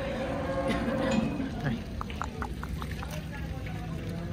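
Cows low a few times amid a noisy crowd at the Kopargaon cattle market, the mooing partly buried under steady chatter and background commotion.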